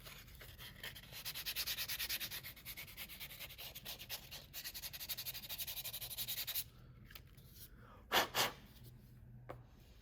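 A yellow foam pad rubs over paint in a steady, raspy scrubbing rhythm for several seconds, close and quiet. It then stops, leaving near silence broken by two brief soft bursts.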